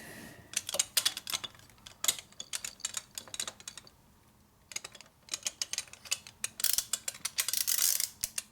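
A ratchet wrench clicks in quick bursts while torquing parts on a 1949 Harley-Davidson Panhead 74ci engine during an FL/FLH motor rebuild, with pauses between rapid, close, crisp ratcheting runs.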